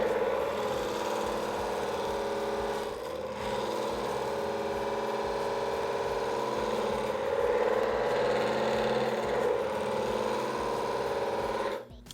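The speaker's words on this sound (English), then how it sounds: "the spinning tool is going to burnish the copper wires" A spinning tool burnishes and forms copper wire mesh on a running lathe, giving a loud, continuous whirring drone with a steady pitch that cuts out abruptly at the end.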